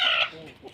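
Native breed hens and a rooster on a farm let out one short, sharp cluck up close, fading quickly into quiet background.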